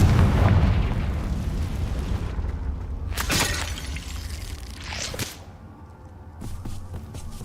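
A Confringo blasting spell in the video game Hogwarts Legacy, two sharp whip-like explosive cracks a couple of seconds apart, loud and near, followed by lighter pops over a low ambient rumble.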